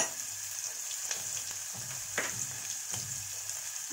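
Onion and slit green chilli sizzle in hot oil in a pan for a chowli usal, a steady soft frying hiss with faint stirring scrapes and taps, no voices.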